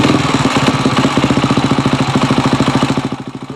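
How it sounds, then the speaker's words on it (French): A restored 1952 Motobécane 175 cc motorcycle engine runs steadily at close range, its rapid, even pulsing firing beat loud and alone before easing slightly toward the end. "C'est une moto bécane,"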